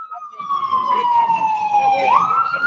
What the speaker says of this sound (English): ambulance, man.